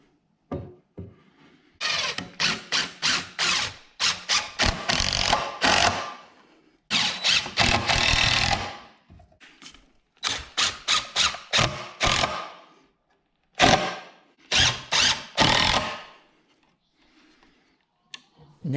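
A power drill drives 3-inch screws into the wood frame of a simple porch swing, with repeated loud bursts of whirring and ratcheting separated by brief pauses, close up and without talk.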